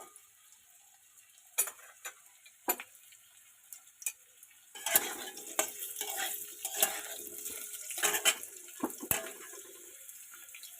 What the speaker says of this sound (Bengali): তেল গরম হয়ে গেছে এবার আমি আলুগুলো ভেজে নেব